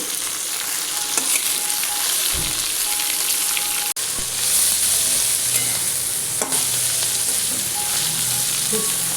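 Tomatoes and coriander fry in a pan for an egg curry, giving a continuous close-up sizzle with occasional stirring scrapes and clinks of a spoon against the pan.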